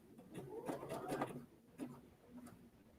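A Brother Aveneer sewing machine stitching a button on a garment, a soft, fairly quiet mechanical whirring with rising pitch for about a second, then lighter intermittent clicks and hums.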